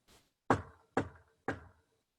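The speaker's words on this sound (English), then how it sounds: "there was a knock at the door" Someone knocks on a door: a faint tap, then three loud, evenly spaced knocks, close by in a quiet room.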